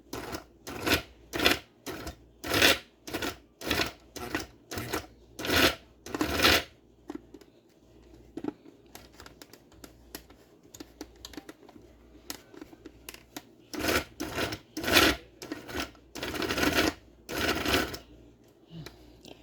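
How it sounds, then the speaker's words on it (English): A small electric spice grinder crunches dried deer pemmican ingredients in repeated short, loud bursts, then pauses briefly before another run of rapid pulses, heard close with no speech. "Spice grinder is not liking this very much."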